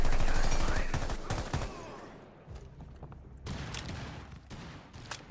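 Rapid bursts of automatic gunfire from Rainbow Six Siege crackle loud and dense at the start, fade to quieter distant shots, then return in several sharp volleys.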